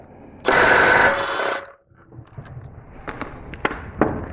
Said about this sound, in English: we're going to take our 17mm and undo all of the lug nut bolts